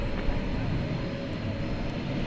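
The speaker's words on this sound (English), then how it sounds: "Got a Frontier Airbus" Frontier Airbus A320 at DFW Airport at night, a steady, distant broadband jet roar with a low rumble, holding level throughout without distinct peaks.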